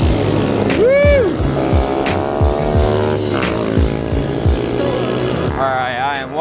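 Racing minibike engines screaming together at the start of a 24-hour race, loud high-pitched revving with repeated gear changes and swooping pitch, close by, with an excited voice heard over the noise.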